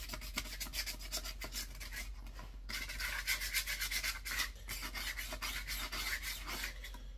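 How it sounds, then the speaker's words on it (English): Car paintwork being lightly sanded by hand before painting, a steady rasping rub of sandpaper on the body panel with repeated back-and-forth strokes, close and continuous with no talking. "I'm not giving this one a really good sand because I just want to give something for the"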